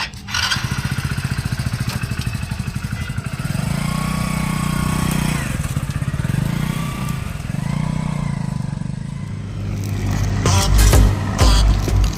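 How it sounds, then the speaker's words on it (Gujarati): A motorcycle engine chugs steadily as the bike rides along, the revving rising louder and rougher near the end. "આપણે પેટ્રોલ પંપે જઈએ મારા બાઇક લઈને"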